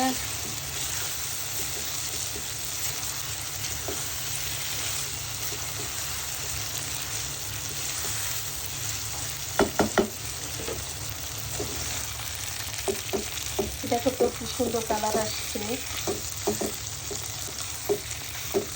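Beef sizzles steadily in a hot pan, a continuous close fry hiss with stirring scrapes and clinks in the second half, while someone speaks briefly over it.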